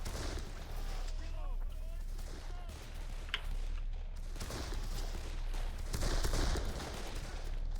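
Machine gun fire in the shooter game Darkest of Days rattles on as dense, continuous bursts under a busy battlefield din, with a voice speaking briefly at the start.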